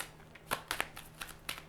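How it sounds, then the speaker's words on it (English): Tarot cards are shuffled in the hands, giving a quick series of soft papery snaps and riffles, close and fairly quiet, with no talk. "I can't shuffle these cards right now."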